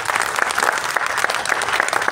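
Audience applause at a live stage event at Uttam Mancha in Kolkata, a dense, steady burst of many hands clapping close and loud throughout, with no voices over it.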